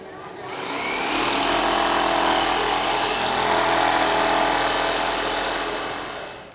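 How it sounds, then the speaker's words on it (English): A jigsaw fitted with a smooth scroll-cut blade saws through wood while shaping a serving tray, giving a steady, loud buzzing whine that holds for several seconds without a break. "I'm going to use a jigsaw here with just a smooth scroll cut blade"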